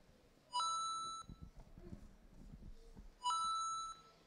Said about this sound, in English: Did you hear that ding noise? That's our obstacle completion.